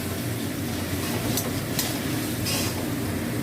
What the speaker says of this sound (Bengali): দিয়ে এই মশলাটা কষে নেবো সামান্য জল দিয়ে।